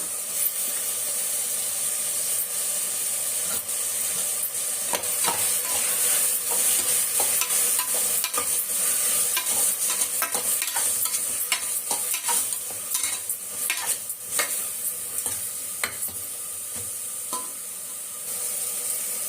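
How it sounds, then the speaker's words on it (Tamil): Mint sautés in a hot pan with a continuous sizzle and hiss, broken by frequent scraping stirs and crackles throughout, close and fairly loud. "புதினா போட்டு வதக்காச்சு"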